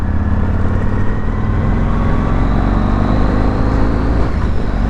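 A Yamaha MT-01 motorcycle with a 1700cc V-twin engine rumbles loudly and continuously at close range, a dense, steady low roar with no pauses and no talking.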